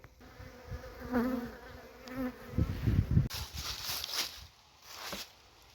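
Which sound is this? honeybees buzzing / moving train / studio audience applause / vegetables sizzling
honeybees buzzing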